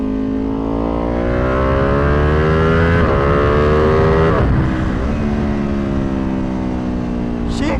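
A tuned Ducati Panigale V2 motorcycle revs hard while ridden on the street, its loud engine note rising through gears with several sharp shift dips, close and continuous with no talk.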